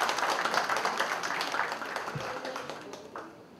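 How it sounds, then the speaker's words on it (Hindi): An audience at a book launch applauds, a broad wash of clapping that is strongest at the start and gradually thins and fades toward the end. "मैं चाहूंगा श्रीमती कमला मिश्र जी के लिए जोरदार तालियां होनी चाहिए।"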